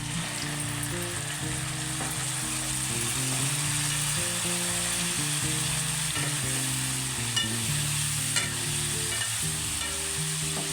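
Tomatoes and turmeric frying in a pan while being stirred, a loud continuous sizzle with repeated scraping strokes of the spoon, close up and without talk.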